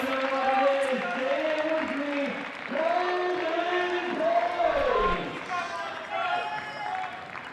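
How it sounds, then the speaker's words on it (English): Crowd cheering and applause at a table tennis mixed doubles match between Florida and Chicago, a steady roar rising and falling beneath loud commentary. "Adam Bobrow getting the crowd fired up."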